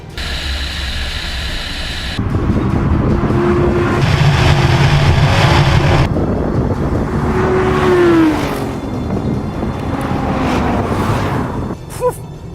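Audi cars such as an R8, RS6, RS3, S1 and RS2 accelerate hard in a drag race against a Ducati, engines roaring with rising revs and gear changes under steady wind rush.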